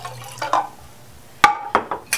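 Water splashes into a cup with apple cider vinegar in a home kitchen, short liquid pours and a few glassy clinks in quick bursts, close and fairly loud.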